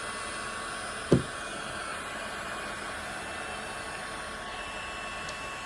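Heat gun blowing hot air onto the 3M adhesive behind a rear emblem on a Hyundai Ioniq 5, a steady, moderate whooshing hum with one brief thump near the start.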